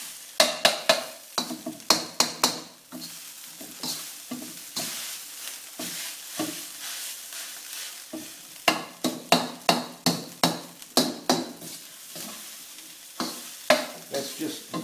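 A Thai basil dish is stir-fried in a pan: bursts of sharp scraping and tossing strokes come in quick rhythmic runs over a sizzle, with brief pauses between the runs.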